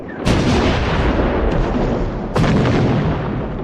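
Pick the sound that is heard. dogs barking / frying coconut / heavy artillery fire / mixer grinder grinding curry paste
heavy artillery fire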